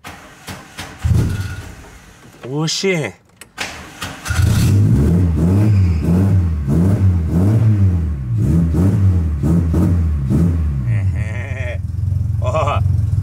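An old Chevette's engine cranks with a brief whine, catches and settles into a loud, steady, lumpy idle with rhythmic pulsing; a short exclamation comes just before it starts.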